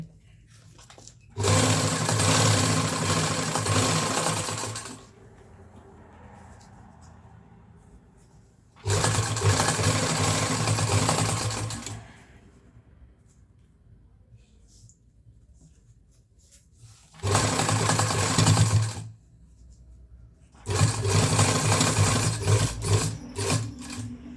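A sewing machine stitches a zip into a school coat in four bursts of steady whirring, each lasting a few seconds, separated by quiet pauses with faint handling noise.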